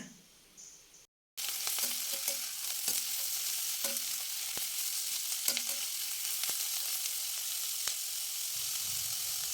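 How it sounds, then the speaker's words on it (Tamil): Steady sizzling of chopped onion, carrot and capsicum frying in a hot pan, with scattered stirring clicks and scrapes throughout, close up and with no voices. "ஒரு கேரட்டும் ஒரு குடமிளகாயும் அதையும் நறுக்கி சேர்த்துட்டு கொஞ்ச நேரம் நல்லா வதக்கி எடுத்துக்கலாங்க"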